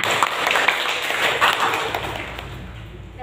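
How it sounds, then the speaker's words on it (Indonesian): Students in a middle-school science classroom clap their hands together, a dense patter of many claps close by that fades gradually toward the end. "Tepuk tangan dulu kita semua."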